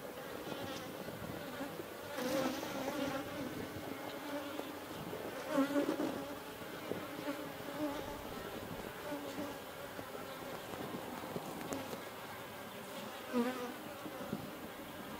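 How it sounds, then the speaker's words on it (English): Honey bees buzz steadily around a heavy hive frame of brood and pollen during a horizontal hive split inspection, a dense close swarm drone with small swells in loudness and no talking. "This looks like a very healthy frame of bees right here."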